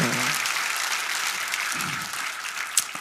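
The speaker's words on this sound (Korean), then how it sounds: "영광의 박수요." Congregational applause fills a church gathering, a broad steady clatter of many hands that gradually thins toward the end, with a voice briefly audible at the start.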